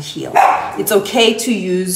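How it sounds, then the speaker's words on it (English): A dog barks in a few quick yaps close by, overlapping a person who keeps talking right through the barking. "sorry for the dog barking"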